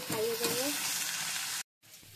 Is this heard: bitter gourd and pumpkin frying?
yes